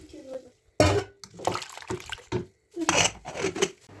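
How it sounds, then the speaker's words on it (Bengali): Water splashes into a cooking pot of chicken biryani with salt and saffron colouring in short, uneven bursts of pouring and gurgling, close by, with small clinks between. "এবার জল দিয়ে দেবো পরিমাণ মতো"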